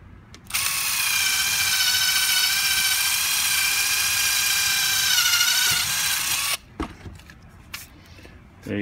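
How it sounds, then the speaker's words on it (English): A power drill runs steadily at high speed for several seconds, drilling bypass ports in a water valve cassette, its whine holding constant, then cuts off abruptly, followed by faint handling clatter. "Now we'll drill the other two."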